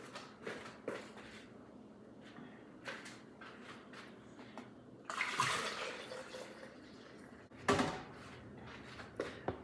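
Water pours into a container of lime juice in a kitchen, with splashing surges between quieter clinks and handling sounds, close but fairly soft.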